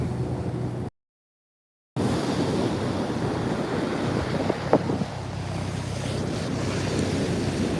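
Steady roar of surf washing ashore with gusty wind buffeting the microphone, broken by a brief dropout of silence near the start.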